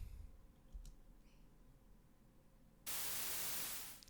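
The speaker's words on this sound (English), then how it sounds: "Some white noise," Burst of white noise in a heavy rock and grunge production, a sudden loud hiss cutting in after quiet faint clicks and hum, then tapering off near the end.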